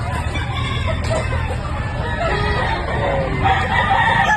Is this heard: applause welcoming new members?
no